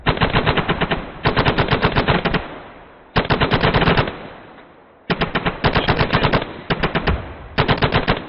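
Rapid bursts of automatic gunfire from an A-10C Thunderbolt II in a video game, four loud close volleys of fast repeated shots separated by brief pauses.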